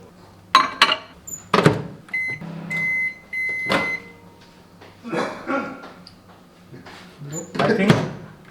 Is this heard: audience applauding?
no